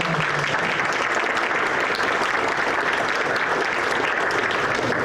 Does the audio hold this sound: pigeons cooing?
no